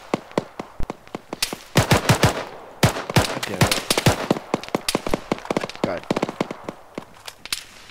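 Enemy gunfire in a military video game battle, loud, close, sharp bursts of rapid shots and single cracks in clusters over several seconds, with voices talking in between.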